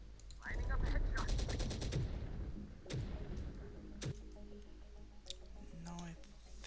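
Rapid bursts of gunfire crackle in a realistic-difficulty military shooter game, including a fast automatic rattle and sharp single shots, over loud background game sound and talking.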